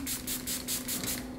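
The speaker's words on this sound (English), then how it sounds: "Just gonna use the setting spray one more time" Several quick hissing sprays from a pump mist bottle, about five bursts in a steady rhythm, close and fairly soft.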